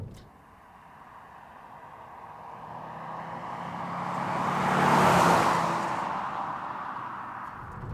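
A Volvo C30 hatchback being driven, with steady road and engine noise that swells to a peak and then eases off again, continuous throughout without speech.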